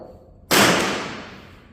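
A single sharp air rifle shot, an Air Venturi Avenge-X or Gamo, cracks out loud and close after a quiet moment, then fades over about a second.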